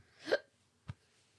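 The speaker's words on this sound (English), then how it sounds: "Got the hiccups now." A single person's hiccup sounds once, sharp and close, followed by a brief soft catch in the throat, otherwise near silence.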